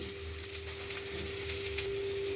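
Cauliflower pieces frying in hot oil make a steady, dense sizzle, close and even throughout, with a constant low hum underneath and no voices.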